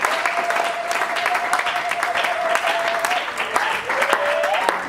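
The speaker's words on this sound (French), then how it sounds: "Acclamons très très fort." A church congregation claps loudly and steadily during a Sunday service, the applause dense and continuous throughout, with a sustained musical tone ringing underneath.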